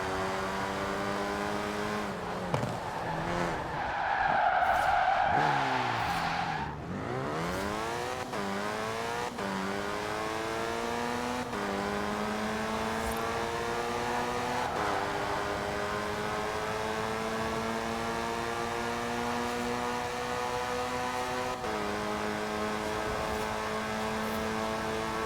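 A racing car in Forza Horizon 4 roars through a long straight, engine climbing through gears with repeated upshifts and rising whine, a brief tire squeal early on, loud and continuous.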